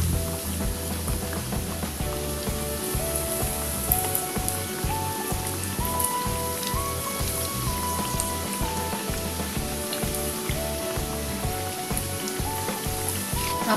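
Chicken, carrot and sweet potato nuggets frying in hot oil over a low flame, a dense continuous crackling sizzle with rapid popping throughout, steady and close.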